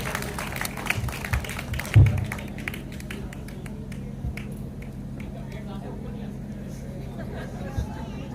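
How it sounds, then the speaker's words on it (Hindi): Audience applause at an Urdu mushaira, with scattered claps and taps from a seated crowd, moderately loud at first and then thinning to sparse claps under a low murmur of voices. "बहुत तालियाँ फरहान रज़ा"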